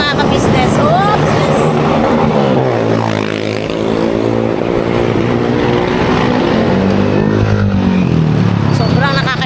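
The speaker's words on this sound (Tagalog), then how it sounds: "May ingay na motor. Lahat ng motor nila." Several loud motorcycles rumble and rev nearby in a steady, droning engine noise, with people talking over it throughout.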